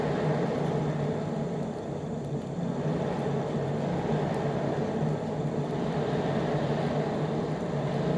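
A coal and coke forge fire roars steadily under a forced air blast, a dense continuous rushing hum with no pauses and no talking.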